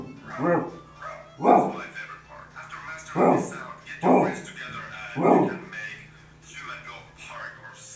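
A voice imitates a dog barking, giving a series of about five short, punchy barks spaced roughly a second apart, with softer breathy vocal sounds in between.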